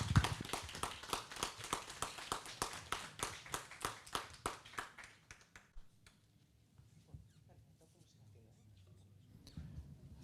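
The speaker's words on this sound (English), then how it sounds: "let's give them an applause." Applause for guests at the close of a regional air transport conference panel, a run of fairly quiet, rhythmic claps that thins out after about five seconds, followed by faint room noise and murmuring.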